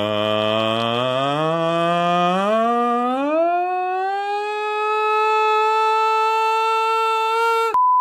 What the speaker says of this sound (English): Then you can do another exercise they call the siren exercise,